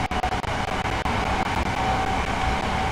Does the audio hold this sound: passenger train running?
yes